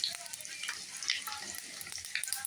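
Mixed leafy greens hit a hot pan and fry with a dense, crackling sizzle, interrupted by occasional stirring scrapes, loud and close throughout.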